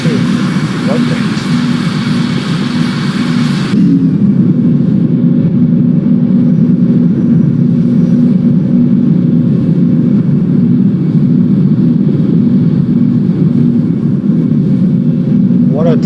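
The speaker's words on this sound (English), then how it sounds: "But yeah, we're taking off now." An airliner takes off in the Roblox flight game Project Flight, with a loud, steady engine roar that drones on throughout after a brief hissing layer drops away early.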